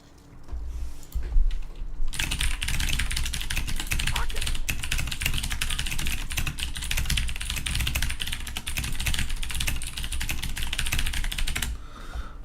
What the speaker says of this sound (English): I'm actually typing messages to people on Discord